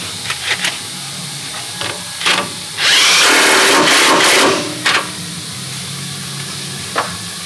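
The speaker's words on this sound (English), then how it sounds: "With an 18 millimeter, you go ahead and you tighten the sway bar link back down." An 18 mm tool tightens a sway bar link nut on a Ford F150 during a strut and shock install: a few scattered metallic clicks, then one loud whirring burst of about two seconds, followed by more light taps.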